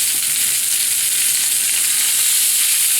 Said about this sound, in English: And there's gonna be some big time sizzle.